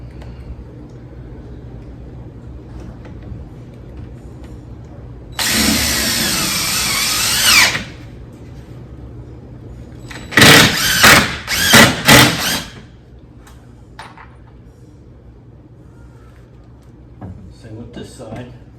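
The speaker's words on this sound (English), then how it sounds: "Get one screw in to be at the edge of the plywood." A power drill drives a screw into plywood at the edge of a 1x4 frame for a custom door, with one sustained whirring burst followed by several short, loud pulses close by.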